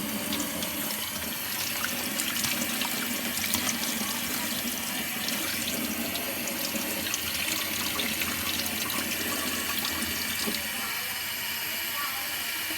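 Chicken liver rinsed under a running kitchen tap, a steady rush of water splashing into the sink for the whole stretch, close and continuous with faint handling sounds.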